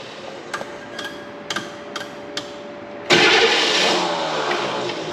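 A diesel engine cranks with air in its fuel lines, a few sharp knocks at first, then a loud, sustained, rough churning of the starter turning it over without firing.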